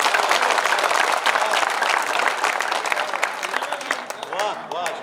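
An audience at a Hindi comic poetry gathering claps loudly and steadily, the applause thinning toward the end into scattered claps, with a voice rising through it.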